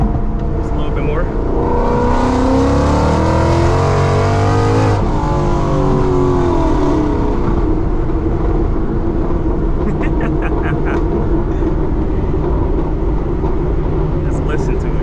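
A Whipple-supercharged Ford Mustang roars loudly and continuously while being driven, with a sweeping rise and fall in engine pitch early on, then a steady heavy drone with supercharger whine up close.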